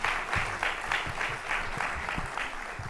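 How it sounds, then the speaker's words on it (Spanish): Audience at a film screening colloquium applauding director David Trueba, steady dense clapping from a mid-sized crowd sustained evenly for several seconds, fairly close and without speech. "le vamos a dar un gran aplauso a este compañero y amigo que es David Trueba"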